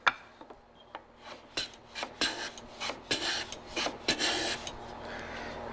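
Hand plane cutting a small chamfer along the edge of a wooden drawer part, a run of short scraping strokes that grow longer and closer together, close and fairly loud with no talk.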